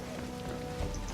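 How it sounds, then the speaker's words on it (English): Rain showers in the video game Pathfinder: Kingmaker, a brief steady patter of rainfall with a soft low rumble, evenly spread and moderately quiet. "It's the 4th month, so we got some rain showers."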